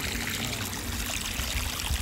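Ice-cold stream water on a farm flows in a continuous, close rush of splashing and gurgling, with no voices.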